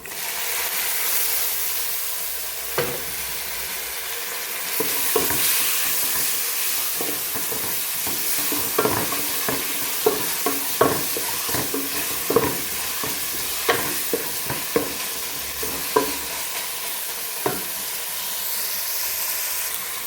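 Browned onion and tomato sizzle in a pan for a mackerel curry, with a continuous hiss broken by repeated spatula scrapes and clinks as the mixture is stirred up close.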